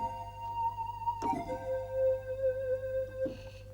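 A sustained three-tone preset patch on a Roland XP-80 synthesizer holds steady tones, with a soft attack shift midway and another brief change near the end, playing alone without voices.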